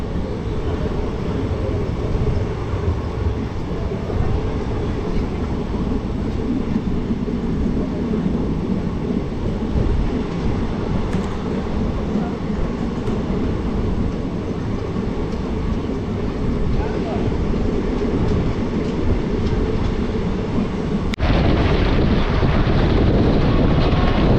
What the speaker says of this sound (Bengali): বর্ধমান হাওড়া লোকাল।